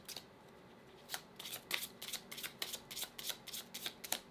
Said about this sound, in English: I feel like I gotta keep shuffling for you, Gemini, so I'll just keep doing it